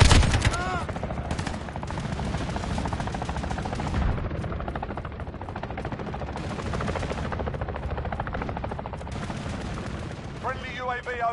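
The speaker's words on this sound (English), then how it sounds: "Friendly chopper gunner on overwatch." Sustained, dense gunfire and explosions from a chopper gunner helicopter attacking in the Call of Duty Modern Warfare beta, loud and continuous with rotor-like rumble and a brief announcer voice near the end.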